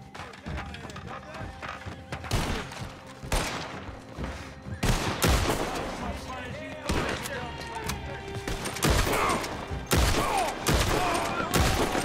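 Repeated machine gun bursts and gunfire in a Red Dead Redemption 2 shootout, loud and dense across the whole stretch, mixed with horse hooves and whinnies, with a voice talking over the action.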